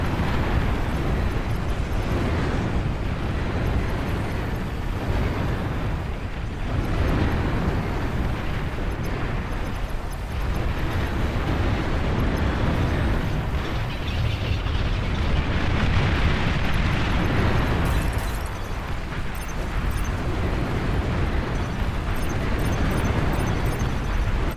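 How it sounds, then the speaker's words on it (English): Continuous rumbling barrage of anti-aircraft flak bursts in a video game, dense overlapping booms and crackles filling the whole stretch at a steady, loud level. "Oh, we have flak too."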